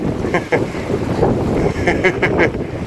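Steady wind buffeting the microphone outdoors at an old 1639 manor property, a low continuous rumble with gusts, and faint voices underneath.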